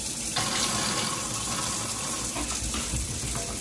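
Tap water runs steadily into a sink while an old hookah is rinsed out, a continuous close splashing rush with no pause throughout.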